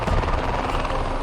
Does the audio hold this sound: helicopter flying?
yes